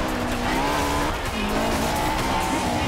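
A Honda S2000 from the 1990s races in the video game Forza Horizon 2, its engine droning loud and close with tire squeal and skidding throughout.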